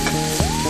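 Skewers frying in a pan for a Korean royal court dish, giving a steady close sizzle with a soft stirring or scraping sound partway through, no voices.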